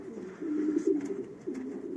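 Racing pigeons in a loft give soft, low, continuous coos, near and fairly quiet, with no talking.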